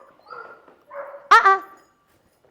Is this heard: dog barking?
yes